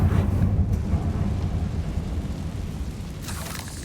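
Confringo, the fire spell in Hogwarts Legacy, erupts as a loud rumbling blast that rolls on in a dense crackling roar across the whole stretch, no voices.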